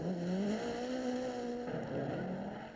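A 1986 Citroën rally car drives hard on the Swedish Rally, its engine revving in a rising and falling snarl, fairly close and loud, with a gear change partway through.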